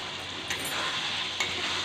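Yogurt being stirred into spice masala that has just been fried for Kolkata-style ghugni, giving a steady soft sizzle with faint scraping strokes and two brief louder clinks of the spoon against the pan.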